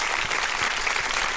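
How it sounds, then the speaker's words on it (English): Steady applause from a crowd, dense and continuous clapping that holds at an even level from start to finish. "That is applause for me."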